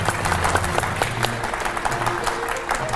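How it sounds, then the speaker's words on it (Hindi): A studio audience breaks into dense, steady applause, many hands clapping together in a continuous close wash of sound. "एक बार तालियां हो जाए इस बात के लिए।"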